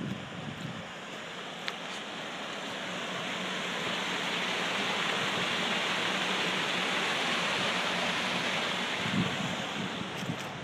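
Water gushing from a broken water main on a street, a broad, continuous roaring hiss that swells and holds loud for the full stretch, with a few faint knocks and no talking.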